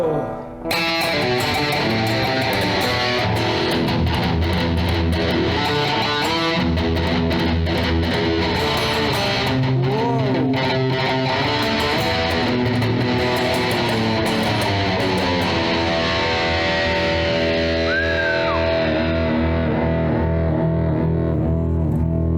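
Electric guitar, a Strat-style instrument, played through a high-gain amp for heavy tones: loud, sustained distorted chords and riffs ringing continuously with no talk over them.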